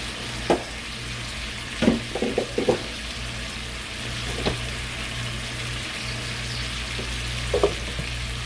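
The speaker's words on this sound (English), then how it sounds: "I'm going to let it sear for a little bit longer." Salmon steaks searing in a pan on the stove, a steady close sizzle with a few sharp clatters and taps of utensils, no talk.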